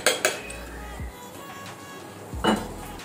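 Metal pot clatter as fish goes into a pot on a lit gas stove for a Malvani fish dish: a couple of sharp clinks, near and moderately loud, over a low steady hiss of the burner.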